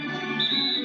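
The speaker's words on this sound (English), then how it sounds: "So he gets the whistle, contact on the way up, and 2 shots coming up." A referee's whistle in the NBA 2K17 basketball video game: a steady high tone that holds for most of a second against the game's background noise.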